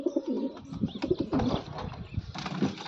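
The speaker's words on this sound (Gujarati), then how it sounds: "આ બંધ દૂમ નો કબૂતરો છે જોઈ લો" Fancy pigeons, including red-eyed, muffed and purple-footed birds, coo softly and repeatedly at close range, with brief wing flutters and no talking.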